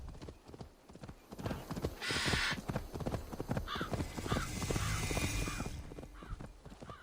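Horse hooves clip-clopping in the video game Assassin's Creed Valhalla, a steady rhythmic trot of many hoof strikes, close and continuous, with a brief neigh-like call and faint bird caws behind.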